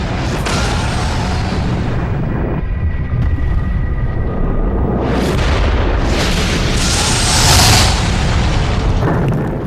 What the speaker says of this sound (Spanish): un cometa explotó en Norteamérica, sembrando todo el territorio con sus fragmentos